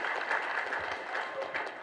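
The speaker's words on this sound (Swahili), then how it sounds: "Tupigie mheshimiwa makofi tafadhali." Applause from an audience at a memorial gathering, a steady wash of clapping that carries evenly throughout, fairly soft and heard from a distance.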